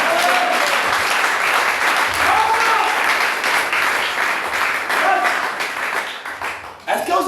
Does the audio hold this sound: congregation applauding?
yes